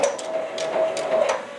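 An embroidery machine stitches the final lock stitch on the top of a hat with a steady mechanical whir. Rhythmic needle taps repeat about every third of a second, close and alone.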